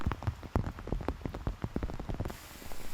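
Torrential rain from Typhoon Bavi pours down in Kyushu, Japan, a dense steady hiss of heavy downpour with sharp drops and splashes striking surfaces up close, continuous and without talk.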